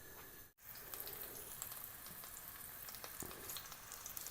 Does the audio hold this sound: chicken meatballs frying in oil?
yes